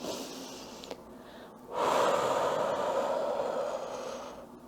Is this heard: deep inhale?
yes